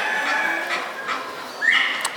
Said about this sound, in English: Cackling dwarf Canadian geese.